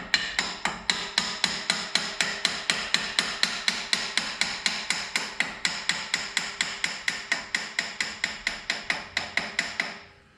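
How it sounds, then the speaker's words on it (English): A hammer taps new brake pads into Brembo calipers on a 2007–09 Shelby GT500 in a quick, even rhythm, roughly four sharp metal strikes per second, close and clear, stopping abruptly at the end. "Slowly tapping these in."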